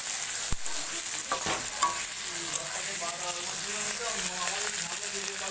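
Prawns fry with onion in a pan, giving a steady sizzle broken by clinks and scrapes of stirring. Faint voices hum underneath.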